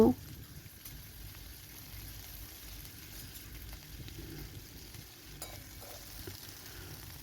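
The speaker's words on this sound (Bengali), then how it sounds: "বেশ খানিকক্ষণ ধরে কুঁদরিগুলো ভেজে নেবো" Ivy gourd fries in a pan with a steady sizzle and faint scraping and stirring throughout, close by and moderately loud, with no talking.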